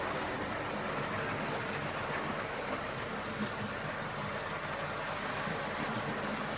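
Hornby King Edward model locomotive with a Ringfield gear-driven motor running steadily, a continuous even whirring drone close by with no talk.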